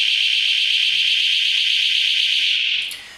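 A FirstWall security system door alarm gives a steady, piercing electronic tone. It sounds loud and continuous for about three seconds, then cuts off abruptly.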